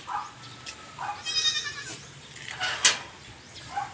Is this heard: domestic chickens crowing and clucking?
no